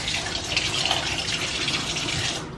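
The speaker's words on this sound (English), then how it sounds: "But let's rinse this off real quick" A spatula is rinsed under a running kitchen tap, a steady close stream of water splashing for a couple of seconds before it cuts off.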